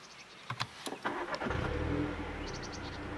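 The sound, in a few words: car engine starting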